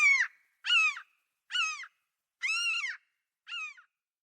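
A human voice imitates a common gull call: five separate nasal, harsh calls with short gaps, close and clear against silence.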